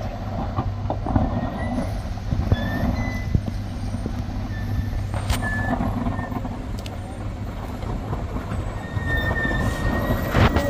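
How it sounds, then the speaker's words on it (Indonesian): A bus engine drones steadily with a deep, constant rumble as it descends the rough Batu Jomba road in Indonesia, broken by occasional faint squeaks and rattles. "Di depan kita ini ada bus lah."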